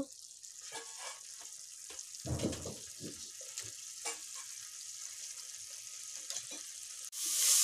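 Fried prawns tipped into cooked-down masala in a pan, with a soft steady sizzle, a few clattering knocks and scrapes, and a sudden louder hiss at the end.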